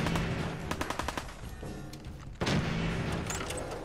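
Gunfire in Fallout 4: a string of sharp, evenly spaced shots in the first second, then scattered game effects and a heavier blast near the midpoint, all up close and loud with no talk.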